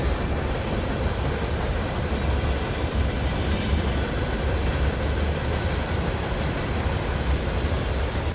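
A Norfolk Southern manifest freight train rolls past close by, a loud, steady rumble of wagons and wheels continuing throughout without voices.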